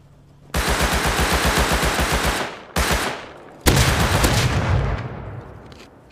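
MP5 submachine gun fire in the survival game Rust, heard as a loud, close burst of rapid automatic shots followed by two more sustained bursts, with no talking.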